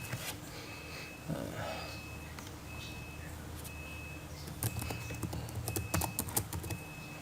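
Login ID and password typed on a computer keyboard in a hospital records system, a steady run of soft, close keystrokes with a quicker burst of clicks toward the end, no voices.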